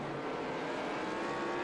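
A Next Gen stock race car runs on the Nashville track, with a steady, moderately distant engine roar under faint crowd and ambient noise.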